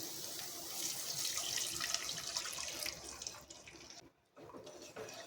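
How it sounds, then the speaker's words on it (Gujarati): Water is poured into a farali snack mixture, giving a continuous splashing, tap-like gush of running liquid that thins briefly near the end before resuming. "તો હવે આપણે તેની અંદર 1 મોટી વાટકી જેટલું પાણી ઉમેરીશું।"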